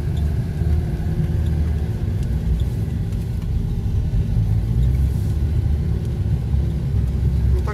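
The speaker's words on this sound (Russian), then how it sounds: "Ну так легенько она едет, не напрягаясь за счет дизеля, да?" A diesel off-road vehicle driving through snow during a blizzard, its engine a steady low rumble that stays fairly loud and close throughout with no clear speech over it.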